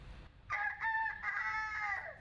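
A person imitates a chicken's clucking and crowing at a chicken-clucking contest, giving a loud, nasal, tonal call of a couple of seconds, broken into a few rising and falling segments.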